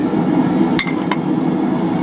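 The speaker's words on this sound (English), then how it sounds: "center punch where we want our holes" A hammer strikes a center punch into metal on a plant-hanger forging project: two sharp metallic taps about a third of a second apart, close and bright over a loud steady workshop hum.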